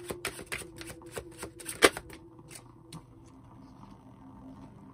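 Tarot cards are shuffled by hand in a quick run of crisp riffling flicks and taps that slows and thins out toward the end, close and clear with no talking.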